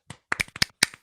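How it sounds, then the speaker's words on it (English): Brief scattered clapping from a small audience at a virtual open mic night, several separate claps spread over about a second, fairly quiet and with no talking. "once again, a round of applause for Ethel"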